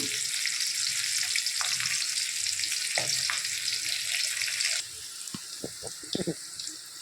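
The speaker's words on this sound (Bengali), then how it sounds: "মাছটা ভাজা বসিয়ে দিয়েছি।" Steady crackling sizzle of hilsa fish lightly frying in hot oil for most of the clip, then quieter with a few clinks and light sounds.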